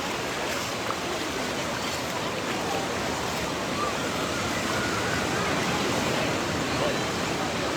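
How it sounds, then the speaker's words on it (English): Ocean surf rolls onto the beach at Wildwood, a steady broadband wash of waves, fairly loud and continuous with no distinct breaks, and faint talk may sit beneath it. "I am at my favorite place in the Wildwoods, which is the beach"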